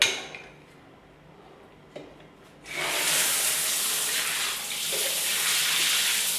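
A rainfall shower head in a hotel bathroom in Pattaya bursts on after a quiet pause, giving a loud, steady broadband rush of falling water that continues without a break to the end.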